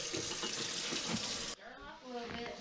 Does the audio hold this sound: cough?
no